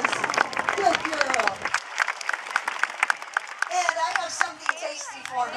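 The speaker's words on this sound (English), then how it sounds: "let's give her a good round of applause" A state fair crowd at a performing bear show applauds, with scattered, uneven clapping and cheers mixed with children's voices and an announcer talking over and between the claps.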